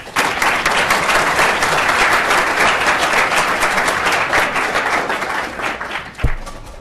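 Applause from an audience welcoming featured speaker Larry Krasner, a dense, steady wash of many hands clapping at full strength for several seconds before thinning out, with a brief low bump near the end.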